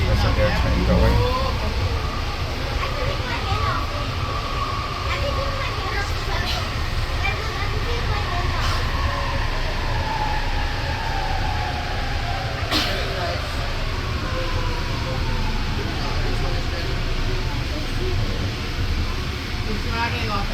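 A steady rumble of the JFK Airport AirTrain people mover runs throughout, with a faint whine, people chatting nearby, and a brief clatter midway.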